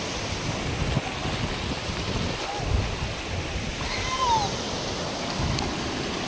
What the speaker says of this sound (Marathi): खूप सुंदर बीच आहे, आरेवारे बीच बेस्ट.